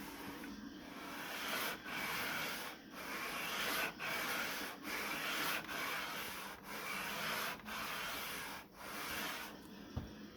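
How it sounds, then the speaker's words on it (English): Steady rhythmic rasping of a sanding block rubbed back and forth, rounding the back of a wooden board bow, about a dozen strokes with brief pauses between, close and fairly quiet. "I love sanding."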